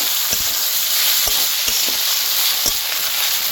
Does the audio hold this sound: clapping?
no